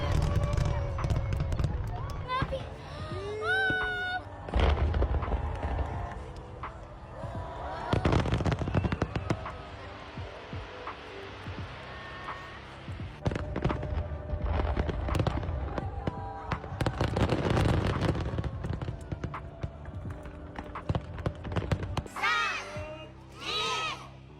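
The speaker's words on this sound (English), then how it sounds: "They did not hold back with the fireworks." Fireworks at a Japanese summer festival, repeated loud bursts and crackling booms with a crowd shouting and cheering between explosions, voices talking throughout.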